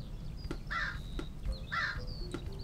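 In a video game, a crow caws twice in harsh, evenly spaced calls over a steady low background hum, with no speech.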